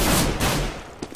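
Burst of rapid gunfire in the video game Counter-Strike: Global Offensive, a loud fusillade of overlapping shots followed by a couple of sharper separate reports.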